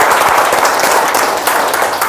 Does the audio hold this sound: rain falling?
no